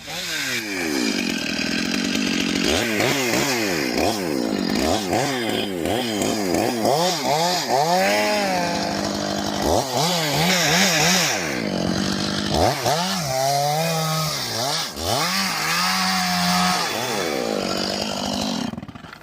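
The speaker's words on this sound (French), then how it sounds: "Donc ça, c'est une scie de 24 pouces." A chainsaw with a 24-inch bar roars continuously at close range, its engine pitch rising and falling as it revs and bites into a tree about 20 inches thick while felling it.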